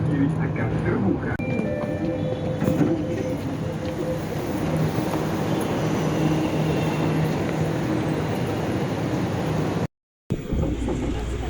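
Riding a Jakarta MRT metro train: a steady interior rumble and rolling hum fills the carriage, with a voice speaking over it before a brief cutoff near the end.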